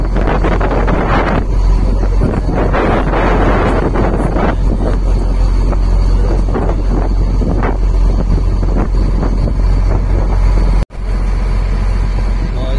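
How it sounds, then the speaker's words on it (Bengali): A speedboat races across open water toward Kusu Island in Singapore, its loud engine drone buried under heavy wind buffeting and splashing. The noise stays continuous and close, then cuts out sharply near the end before quickly returning. "এই মুহূর্তে আমরা আছি স্পিড বোটের ভিতরে। আমরা যাচ্ছি কসো আইল্যান্ডে।"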